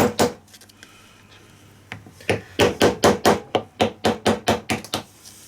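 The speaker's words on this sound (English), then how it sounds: "we now take an old flathead screwdriver, and I'm just going to start hacking away at that resin." An old flathead screwdriver hacks at resin on a Denso alternator, with a few scattered knocks and then a fast run of sharp, close, percussive chipping strikes.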